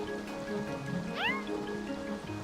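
A cartoon cat in the farming video game Staxel gives one short rising meow over soft looping game music and gentle rain-like ambience.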